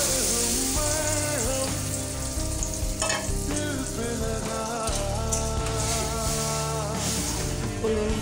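Mustard and poppy seed paste ground with green chilli frying in hot oil, a steady close sizzle and crackle like rain on a surface, with faint stirring, lasting the whole stretch without talk.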